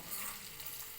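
Spices such as dried red chillies fry in oil for tempering, giving off a faint, steady sizzling hiss throughout a single brief moment.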